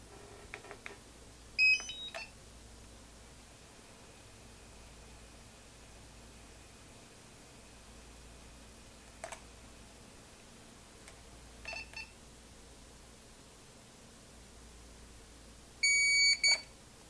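A DJI RC 2 remote controller gives short electronic beeps, a quick cluster near the start, single chirps spaced through the middle and a brighter burst toward the end, over a faint steady hiss with no talking.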